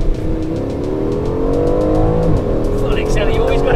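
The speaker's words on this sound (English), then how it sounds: "Full accelerator, you always got to be on the power on the way out of the corner." An Aston Martin Vantage accelerates hard out of a corner on the Canadian Grand Prix circuit, its engine note rising continuously and loud, with a brief tire squeal near the end and someone talking over it.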